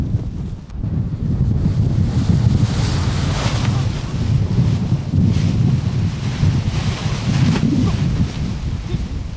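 Strong Himalayan wind buffets the microphone in a steady, loud low roar with gusting swells, at a paragliding takeoff site high in the mountains.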